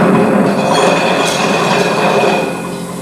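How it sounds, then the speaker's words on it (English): A VibePlate whole-body vibration plate runs at a steady rhythmic rate, giving a loud close continuous hum and rattle that eases slightly near the end. "using VibePlate for synchronous, rhythmic, whole body vibration"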